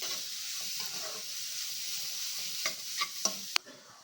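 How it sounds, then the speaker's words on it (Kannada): Grated carrot frying in a pan while being stirred, a close, steady sizzle with soft scraping strokes and a few sharper clinks of the spoon against the pan near the end. "ಕ್ಯಾರೆಟ್ ತುರಿ ಇದ್ರ ಜೊತೆಗೆ ಸ್ವಲ್ಪ ಫ್ರೈ ಮಾಡ್ಕೊಳ್ಳೋಣ"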